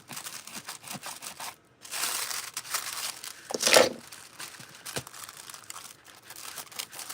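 Thin metal foil crinkling and crumpling in close, irregular bursts while it is smoothed over a plastic foam or ceramic pumpkin, with one sharper crackle near the middle.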